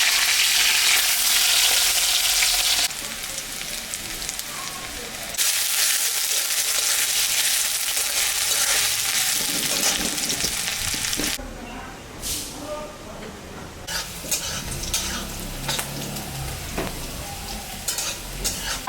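Black cumin, chopped green chillies and diced potato sizzle loudly in hot oil while being stirred. The frying drops and surges in bursts, and a voice speaks faintly at times.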